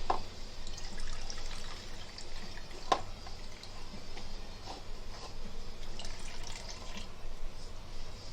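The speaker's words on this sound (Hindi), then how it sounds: "तुरई का पानी निकालेंगे।" Water running and dripping as liquid is squeezed out of chopped ridge gourd in a home kitchen, a steady trickling wash with a few sharp drips and clinks, no voices.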